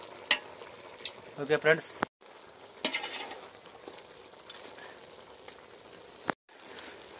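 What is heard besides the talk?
chicken being stirred in a frying pan with a ladle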